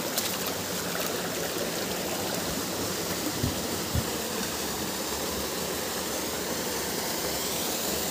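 Waterfall at Candace Falls, a constant broadband roar of falling water, steady and loud, with a couple of faint knocks nearby.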